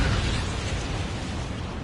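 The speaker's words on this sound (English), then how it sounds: "We're being bombed." Missile bombing explosion in a combat flight video game, a loud sustained rumbling blast with dense broadband roar filling the whole stretch, no talk over it.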